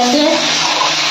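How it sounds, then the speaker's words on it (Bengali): Water poured into a simmering curry of broad beans and potatoes with lentil fritters, a steady broadband rush lasting about a second, loud and close with a faint undertone of stirring. "এবার আমি জল দিয়ে দিচ্ছি।"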